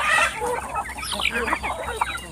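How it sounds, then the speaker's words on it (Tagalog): Hungry backyard chickens cluck and squawk close by in a busy, overlapping chorus, with steady outdoor background noise throughout. "Ngayon po sila, ayan, nagutom ng mga manok."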